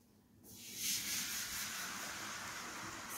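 Water hisses and sizzles steadily after being poured into a heated new electric steamer, a sudden broad hiss that swells and then holds for several seconds, close and fairly quiet with no talking.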